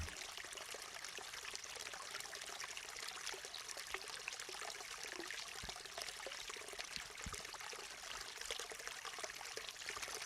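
The swift-moving current of the Davidson River in North Carolina runs clear over a rocky bottom, producing a constant rushing, gurgling wash with a few soft low knocks.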